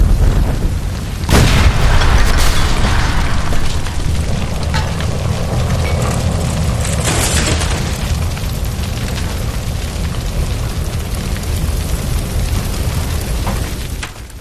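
A gas line by a stove shot and exploding in the video game L.A. Noire: a sudden loud boom followed by a long roaring rumble of fire, with a second burst partway through, no talking.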